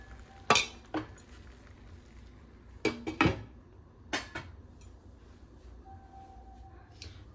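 A metal lid goes onto a cooking pot of Kerala-style avial after coconut oil is added and the gas is turned off: a few scattered clinks and one sharper double clatter, close by, with no talking.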